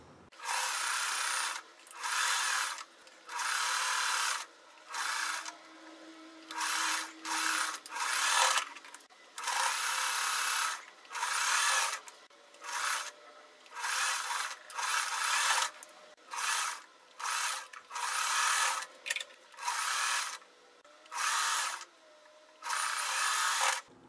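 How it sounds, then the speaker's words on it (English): Sewing machine stitching small quilt block pieces together, running in repeated short bursts of whirring with brief pauses between, close and fairly loud with no talking. "I'm just going to sew all this stuff together"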